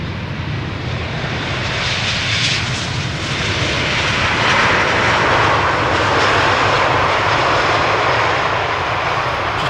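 Jet airliner arriving from Salt Lake City at Amsterdam Schiphol's Polderbaan runway on a hot sunny day, a loud sustained engine roar and broadband rush that swells slightly as it passes close by.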